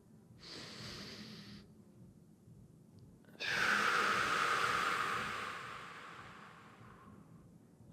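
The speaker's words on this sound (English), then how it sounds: "1 more with 3 inhales" Deep breathing during a vinyasa yoga flow: a short soft inhale, a pause, then a long loud rushing breath that slowly fades, close to the microphone with no talk.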